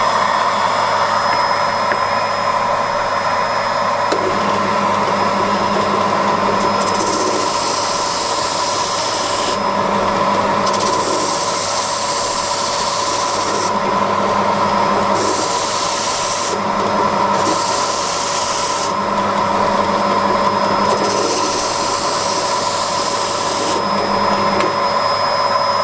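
A pillar drill runs a continuous whirring drone while a 100 grit sanding drum grinds against a leather edge, with rasping bursts repeating as the leather is pressed to the drum and then drawn away.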